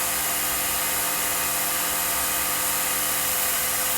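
A power grinder shapes the palm swell of a handle, giving a loud, continuous high whine and grinding rasp that holds steady and close for the whole stretch, with no talk.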